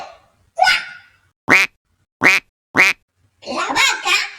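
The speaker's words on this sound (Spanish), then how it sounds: "El pato, al escuchar todo ese alboroto, graznó" A cartoon duck quacks three times in a row, loud, evenly spaced and close, from a children's farm story about animal sounds, between stretches of narration.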